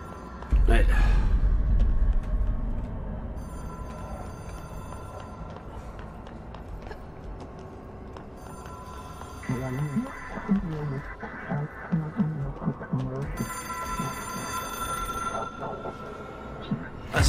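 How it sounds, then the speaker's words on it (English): A telephone rings in the video game Control, with repeated electronic ring bursts sounding over game ambience and footsteps, following a loud opening thud. "A phone."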